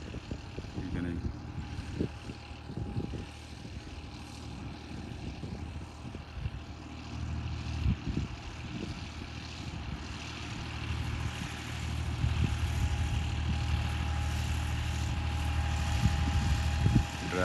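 A Massey Ferguson 260 tractor runs with a steady low diesel drone that swells louder near the end, heard outdoors with some wind and occasional voices in the background.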